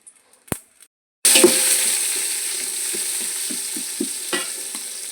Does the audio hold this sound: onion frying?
yes